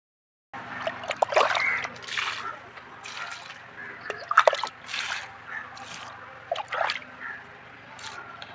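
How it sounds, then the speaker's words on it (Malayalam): Cow dung water poured onto potted hanging plants, irregular trickling and dripping splashes in short bursts, fairly faint and close, with no talking. "അപ്പോൾ ഇനി ബാലൻസ് വരുന്നത് മറ്റുള്ള ചെടികൾക്ക് ഒഴിക്കാമെന്ന് വിചാരിച്ചു"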